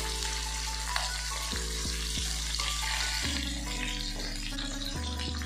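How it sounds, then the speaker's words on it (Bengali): Pabda fish frying in oil as the pieces are turned, a steady close sizzle with a few faint knocks from the pan, over a constant hum and sweeping tonal sounds, no one speaking. "আমি এবার মাছ উল্টিয়ে দেব"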